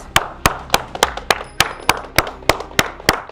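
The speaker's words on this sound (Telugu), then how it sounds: "క్లాప్స్" Audience at the Telugu's Got Talent show claps in a steady, rhythmic beat, about a dozen sharp, evenly spaced claps with no talk over them.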